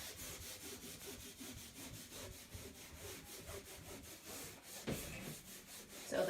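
Rhythmic back-and-forth scrubbing of a textured shower floor with a soft scrub cleanser, brisk regular rasping strokes close by, with a slightly louder stroke near the end.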